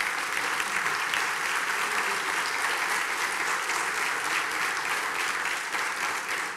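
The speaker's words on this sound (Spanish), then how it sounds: "Un aplauso, por favor." A forum audience gives steady, dense applause that fills the room at an even level for several seconds, with no clear voices rising above the clapping.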